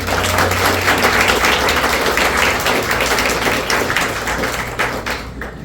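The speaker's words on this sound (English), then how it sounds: "Another round of applause." An audience at a community Latin music cultural event gives a round of applause. It sounds as dense, steady clapping from many hands that thins slightly toward the end.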